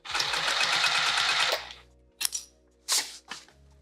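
A Juki sewing machine stitches through a quilted witch hat, running steadily for about a second and a half, then giving a few short, separate bursts of stitching.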